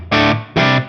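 Line 6 Helix Moon amp model on its bright channel through a 4x12 Moon T75 cabinet, a distorted electric guitar struck in two separate loud, sustained chord hits with a short gap between them.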